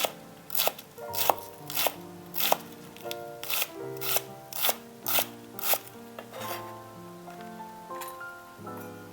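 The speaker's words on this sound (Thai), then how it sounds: "หั่นคิมจิให้ขนาดเท่าเนื้อหมู" A knife chops kimchi rhythmically on a plastic cutting board, about a dozen sharp strikes at a steady pace, over faint background music.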